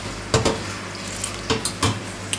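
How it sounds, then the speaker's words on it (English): An alarm clock movement swished around in a tub of shellite cleaning solvent, giving a few soft liquid sloshes and light knocks against the container, fairly close. "Place it into a tub of shellite. Move it round a little bit."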